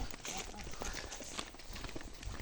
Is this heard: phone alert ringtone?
no